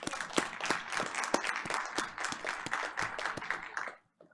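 Audience applause at a school board of education meeting, a steady burst of many hands clapping for about four seconds, fairly close and busy, then cutting off abruptly into silence.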